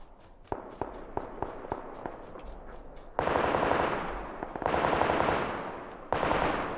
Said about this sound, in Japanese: この銃声なんだ。